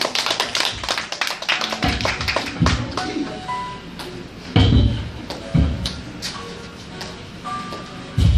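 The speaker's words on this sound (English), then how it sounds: "A round of applause," Applause from the audience at a school readers theater folklore performance, with sharp, uneven claps sounding nearby in bursts that rise and fall over several seconds, along with occasional thumps and some voices.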